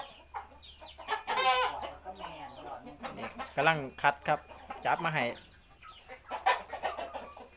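Thai fighting cocks cluck and call near and clear while someone talks over them, the bird sounds rising in short bursts between stretches of speech.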